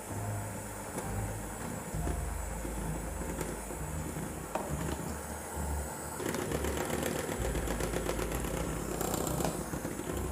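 An electric mixer beats chocolate cake batter with a steady motor whir, then shifts to a higher speed partway through, the tone becoming denser and more intense.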